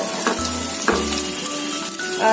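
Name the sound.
onions frying in a pan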